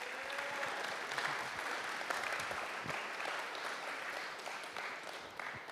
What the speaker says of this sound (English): So give them a big round of applause, please.